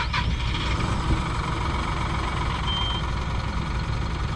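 A truck's reversing alarm sounds in steady repeated beeps over the low rumble of an idling engine, close and loud, with no talk.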